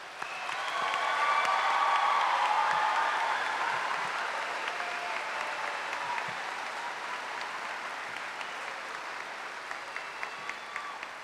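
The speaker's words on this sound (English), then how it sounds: "Give yourselves and my fellow classmates a big round of applause" Graduates and audience at a 2012 commencement ceremony giving a big round of applause, a broad swelling wave of clapping with some cheering that peaks early and then tapers gradually over about eleven seconds, heard from a distance in a large space.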